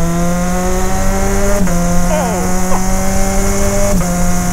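A Suzuki Bandit 650 motorcycle with a quickshifter running loud and steady, the engine tone dropping sharply at two quick gear changes, while a rider's voice talks over the droning engine.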